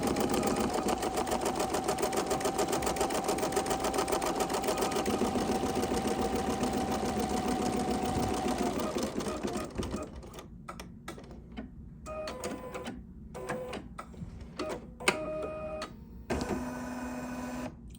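An embroidery machine stitches a basting line, its dense, fast rhythmic needle chatter running steadily and fairly loud for about ten seconds before stopping, followed by quieter clicks, pauses and brief mechanical whirs.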